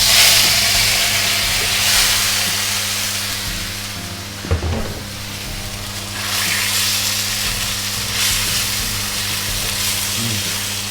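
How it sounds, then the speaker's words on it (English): Beef searing in a very hot wok over high heat, a loud continuous sizzle and hiss with one sharp clatter midway, heard alone without speech. "So my wok is nice and hot. Start putting the beef."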